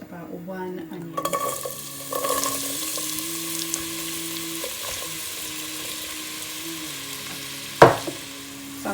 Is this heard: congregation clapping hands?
no